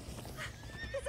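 Minecraft Story Mode horse sounds, soft game-audio hoofbeats with a brief whinny, quiet and close, no talking over them.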